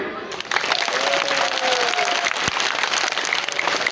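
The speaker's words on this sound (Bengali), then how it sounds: "আজাদ ভাইয়ের জন্য জোরে একটা তালি।" Applause from an audience at a meeting, a steady dense clapping that rises after a short pause and continues loudly and evenly to the end.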